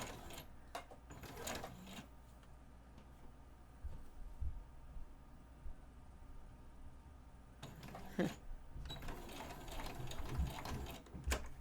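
A sewing machine stitches an inseam pocket seam on a 5/8 guide, starting with a backstitch. Close, steady mechanical whirring runs in two bursts, one at the start and a longer one near the end, with a quieter stretch between and a brief spoken remark.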